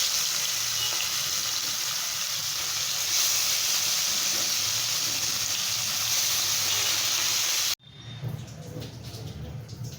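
Parshe fish fry in hot oil in a pan, a loud, dense, continuous sizzle and hiss that cuts off sharply near the end, followed by quieter clattering noise.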